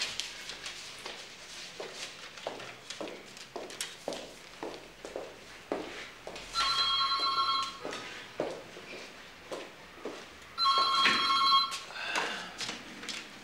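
An old-style telephone bell rings in two bursts indoors, each lasting about a second, amid irregular footsteps and household movement.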